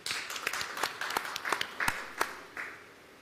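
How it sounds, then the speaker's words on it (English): An audience at a tourism investment presentation on Zimbabwe gives a short round of applause: a smattering of claps that starts busy, thins to scattered, sharp individual claps, and fades out. "A round of applause for her."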